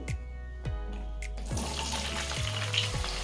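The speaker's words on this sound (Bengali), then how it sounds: "ফোড়ন ভেজে নিয়েছি এবারে এতে দিয়ে দিচ্ছি কেটে রাখা আলু" Cut potatoes hit a fried cumin and asafoetida tempering, giving several sharp knocks and clinks followed by a rising, steady sizzle of frying, close by and without speech.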